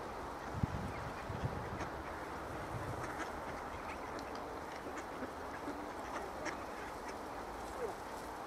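Ducks quack now and then at moderate distance amid a broad outdoor din that sounds like a passing train, with a voice heard faintly.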